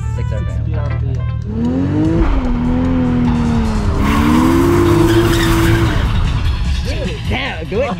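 A car drifting with loud, sustained tire squeal that rises and wavers over several seconds alongside engine noise, with people talking over it.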